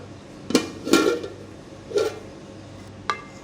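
Aloo gosht is served from a cooking pot into a dish: a few sharp metallic clinks and scrapes of a spoon against the pot, spaced irregularly with quiet gaps between.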